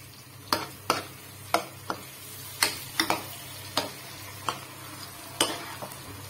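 Masala fries in a pan while a spoon stirs it, with a faint sizzle underneath and about a dozen sharp scraping taps in an uneven rhythm, close by, no one speaking.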